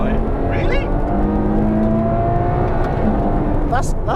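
A Ferrari engine roars under hard acceleration, a loud, sustained rising drone filling the whole clip, with a brief higher whine near the end.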